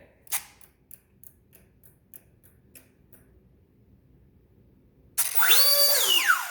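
An E-flite Cessna Citation Longitude UMX RC jet's electric ducted fan motor, heard after a run of small ticking clicks, suddenly spins up to a loud, close, rising whine that sweeps up and down in pitch.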